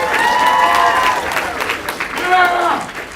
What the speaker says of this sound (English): Let's get a round of applause for Klein.